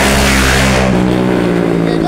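A loud vehicle speeds past on a street, its engine roar harsh and close at first, then easing into a lower rumble as it moves away.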